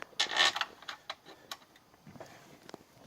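Metal bolts being fitted and threaded into an engine's rocker cover during a gasket change, a series of small close ticks and clicks at uneven intervals, with a brief louder cluster of clatter near the start.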